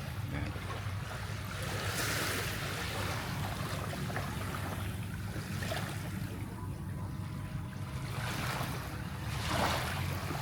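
High-tide waves wash steadily onto a sandy beach at Tambobong, with a continuous broad rush and periodic swells of surf breaking nearby, wind adding a faint hiss.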